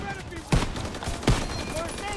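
Gunfire in the Call of Duty WWII campaign, two sharp shots cracking about a second apart over a busy battle background, with a player talking around them.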